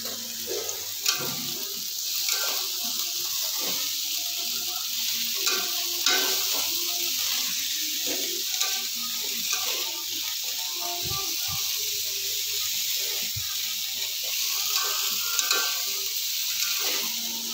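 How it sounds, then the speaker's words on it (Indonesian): Broccoli and mixed vegetables stir-frying in a pan, a steady close sizzle broken by repeated scraping and clattering stirs, with faint talk underneath. "Kemudian kita masukkan sayurannya atau brokolinya ya teman-teman"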